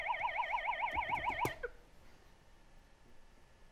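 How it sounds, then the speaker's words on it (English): A warbling electronic siren marks the end of a high school quiz game. It sounds clearly for about a second and a half, then cuts off abruptly, leaving a quiet room. "That siren does denote the end of our game"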